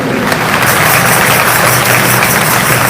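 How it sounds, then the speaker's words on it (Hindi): A large audience at a religious gathering breaks into loud, sustained applause, dense steady clapping that holds evenly throughout, close and strong, with no voices standing out. "जोरदार ताली बजाकर"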